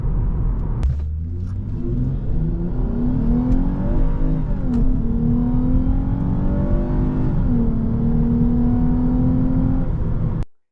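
A 2022 Lexus IS350 F Sport with its 311-horsepower engine accelerates hard, heard from inside the cabin as a loud, rising growl climbing through several gear changes before cutting off abruptly at the end.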